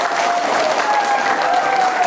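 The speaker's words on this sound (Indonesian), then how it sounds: "tepuk tangan dulu yuk" A studio audience at a televised Indonesian education-office event in Banyuasin breaks into steady, dense applause, a continuous wash of many hands clapping close by throughout.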